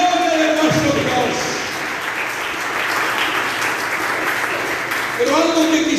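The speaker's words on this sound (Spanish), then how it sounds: "Ese aplauso fuerte a la gloria de nuestro Dios." A church congregation claps loudly in steady, sustained applause throughout, with tonal voices or singing rising briefly at the start and again near the end.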